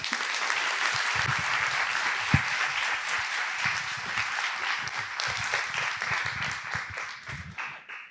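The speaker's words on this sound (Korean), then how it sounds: "나오실 때 함께 하나님께 영광 돌리고 목사님을 환영하는 마음으로 큰 박수해 주시길 바랍니다." A church congregation at a youth worship gathering claps loudly and steadily to welcome the pastor to the pulpit, a dense, continuous wall of applause that thins out toward the end.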